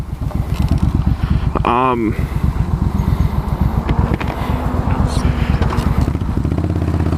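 A motorcycle rides along Skidaway Drive with a steady, loud engine drone and road rumble throughout, while a voice talks over it.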